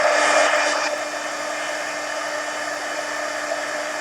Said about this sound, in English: let me dry that real quick